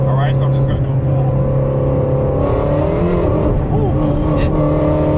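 A boosted car engine revs hard through an acceleration pull from about 4,000 RPM, a loud, sustained drone with rising and shifting tones, heard from inside with a voice over it.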